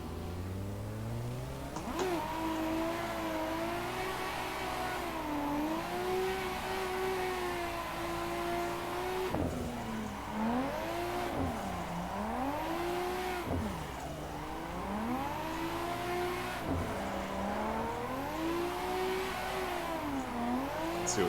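Car engine in the Assetto Corsa sim, tuned to about 80% turbo, revs and surges continuously while drifting a night touge-style mountain track, pitch rising and dipping through gear changes, loud and close with no talk.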